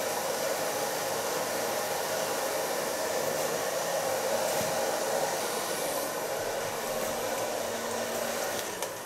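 A hair dryer blow-dries hair during a haircut, a loud, steady broadband whoosh running continuously and unbroken with no talking.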